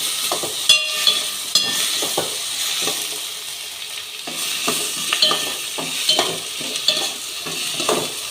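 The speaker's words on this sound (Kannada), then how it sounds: "ಎಲ್ಲನೂ ಹಾಕಿ ಫ್ರೈ ಮಾಡ್ತಾಯಿದ್ದೀನಿ ಅಷ್ಟೇ" Cinnamon, cloves and cardamom fry in hot oil in a pan, a close, steady sizzle punctuated by clicks and scrapes of a utensil against the metal, with no voices present.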